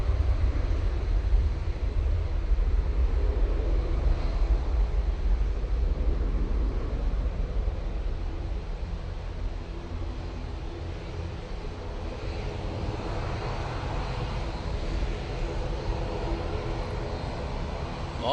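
A Ryanair Boeing 737 departing Manchester Airport for Rome, heard as a steady low jet engine roar that holds at a constant level throughout, with light wind noise over the microphone and no talking.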